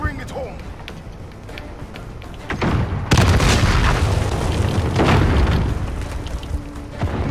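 Explosions in Call of Duty Modern Warfare multiplayer: a loud booming blast rises out of the game noise, followed by a sustained, rumbling roar of battle, with voices audible underneath.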